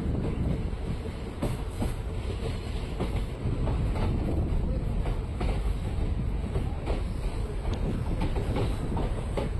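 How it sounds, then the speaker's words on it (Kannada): A train arriving at Bijikere station platform 1 rolls in with a steady rumble and rhythmic clickety-clack of wheels over rail joints, close and continuous, with no voices. "ಬಿಜಿಕೆರೆ ಪ್ಲ್ಯಾಟ್ಫಾರ್ಮ್ ನಂಬರ್ 1ಕ್ಕೆ ನಮ್ಮ ಟ್ರೈನ್ ಬಂದಿದೆ"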